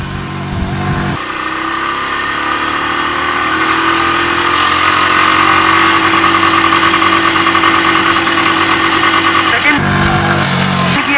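Royal Enfield 350 motorcycle engine pulling in first gear, a steady loud drone whose pitch climbs slowly as it accelerates, with a short idle before and after.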